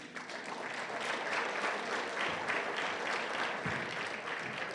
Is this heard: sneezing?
no